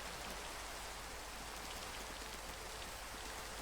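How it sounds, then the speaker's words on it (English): Rain falls in the game Minecraft as a steady, even hiss of droplets that fills the scene without letup, with no speech. "Now this rain is just making nonsense."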